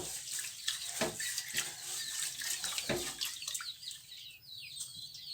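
Rice being washed in water for cooking over a charcoal stove, with splashing and sloshing swirls and a few clunks, close and moderately loud, fading toward the end with faint birds outdoors.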